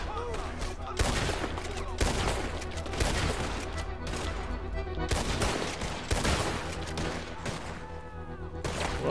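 Gunfire in Red Dead Redemption 2 cracks out in a rapid, dense fusillade of loud, close shots repeating over several seconds, with brief speech in the background.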